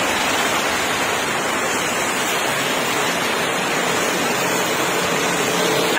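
Steady, dense rush of rainwater pouring from a pipe, a constant loud hiss without pauses or voices.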